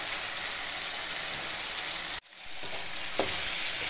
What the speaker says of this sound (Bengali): আবার মশলা কষাবো